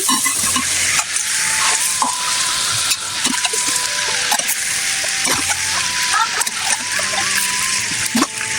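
Hot oil sizzles loudly in a pan where chicken was fried and garlic-ginger paste is added. A dense, continuous crackle runs throughout, broken by repeated scraping stirs of a spoon.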